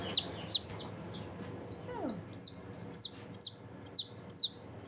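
A newborn chick in a hatchery in Oberndorf chirps repeatedly in sharp, high, evenly spaced peeps, close by, with faint handling noise in the background.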